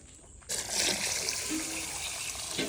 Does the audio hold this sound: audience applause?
no